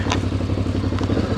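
A Voge DS625X motorcycle engine pulls smoothly away from a standstill, a steady low throbbing drone close up with light mechanical clatter and a couple of brief ticks, no voices.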